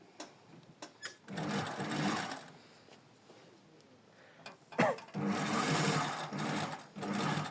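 A sewing machine straight stitches fabric straps in two bursts of rapid, close mechanical stitching, with short clicks and handling noises before and between the runs.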